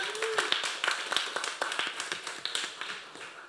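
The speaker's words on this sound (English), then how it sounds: "let's give a round of applause for Elena." At a generative-art event, a small audience gives sparse, uneven applause: separate sharp claps patter at close range and fade slightly toward the end, with no talking over them.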